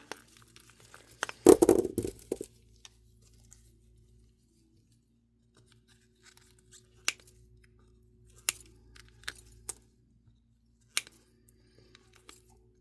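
Trimming a handmade resin turtle piece produces a short burst of crinkly snipping near the start, then sparse, sharp isolated clicks and cuts against a quiet room hum.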